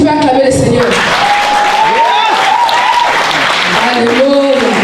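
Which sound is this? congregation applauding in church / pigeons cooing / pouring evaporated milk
congregation applauding in church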